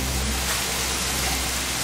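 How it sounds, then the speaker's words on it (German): Heavy rain pours down in a thunderstorm as a dense, steady hiss, loud and even throughout with no other sounds. "Ja, auch der Regen, da kommt ordentlich was an."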